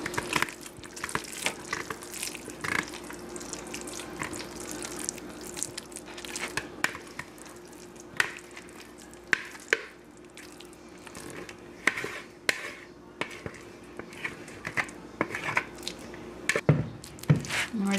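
Wet meatloaf mixture squished and pressed by hand into a baking pan, a steady close run of soft squelches, slaps and small clinks of the pan with no talk.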